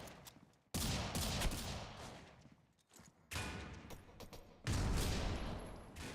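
Bursts of gunfire in a tactical shooter game played in a pistol tournament grand final, several loud clusters of rapid shots separated by brief lulls, with no voices.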